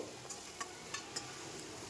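Eggplant slices frying in oil in a pan, a soft steady sizzle with a few light scrapes of a spatula, fairly quiet and close with no voices.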